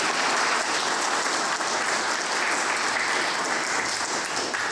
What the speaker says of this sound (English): applause please for them.